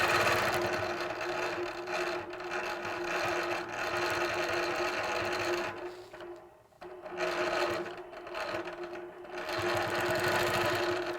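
A longarm quilting machine stitches arcs along a template, a fast, steady mechanical whir with a few brief slowdowns and pauses before resuming.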